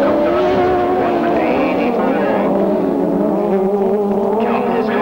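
Grasstrack sidecar outfits at a 1994 British Masters qualifier roaring away from the start line, a loud sustained wash of engines revving together, with a commentator talking over it throughout.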